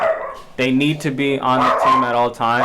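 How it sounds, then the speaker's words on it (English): A dog barks and yips in short bursts close by, mixing with someone talking over it in an indoor room. "That's my dog."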